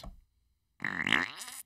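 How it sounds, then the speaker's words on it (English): A fart sound effect fires from a Rodecaster Pro podcast soundboard as one loud, drawn-out buzzy blast lasting under a second, after a brief muffled noise and a short silence. "like I have this fart noise."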